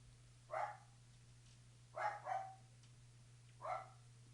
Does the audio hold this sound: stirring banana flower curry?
no